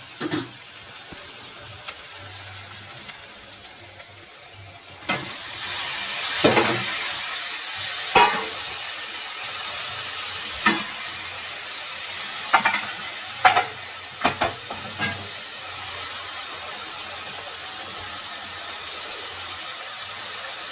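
Onions and broad beans (chikkudu kaya) frying in a pan, a low steady sizzle with intermittent sharp stirring clinks and scrapes of the utensil, close and without talking.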